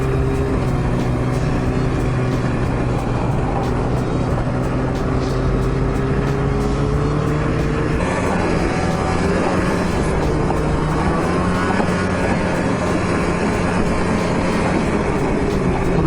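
A Polaris Assault snowmobile engine roars steadily while riding in the dark at night. The drone is loud and close, and its pitch shifts and climbs partway through as the machine speeds up.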